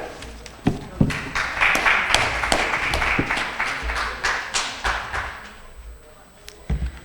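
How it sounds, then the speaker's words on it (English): A sparse, uneven smattering of claps from a leadership summit audience, with distinct individual hand claps thudding out as a speaker takes the stage. "Can we have a huge round of applause for him?"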